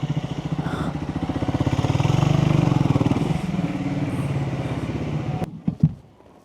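Motorcycle engine running steadily close by, a continuous low rumble that swells in the middle and cuts off near the end, followed by a few brief knocks, on a winter ride arriving at a property.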